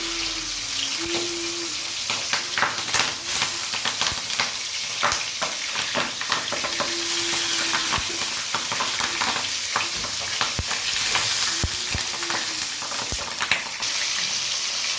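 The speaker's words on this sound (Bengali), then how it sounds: "আমরা এখন বড় বড় পাতুরি ভেজে নেব।" Large bhetki fish paturi parcels fry in hot mustard oil in a kadai, giving a continuous close sizzle with repeated clatter and scraping from stirring, with no voices.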